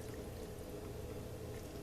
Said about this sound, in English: And we add 1/4 cup of water on the sides here.